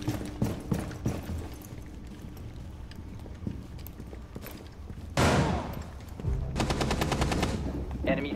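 Machine gun fire in the tactical shooter Rainbow Six Siege: scattered single shots early on, then loud sustained automatic bursts in the second half, up close over game ambience with some voice chatter.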